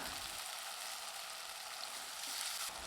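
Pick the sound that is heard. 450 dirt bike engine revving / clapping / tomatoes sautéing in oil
tomatoes sautéing in oil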